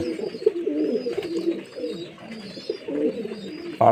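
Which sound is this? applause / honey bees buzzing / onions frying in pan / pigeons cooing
pigeons cooing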